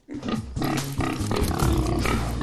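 A pig squeals and grunts loudly in harsh, rough bursts, close and continuous, with no clear speech over it.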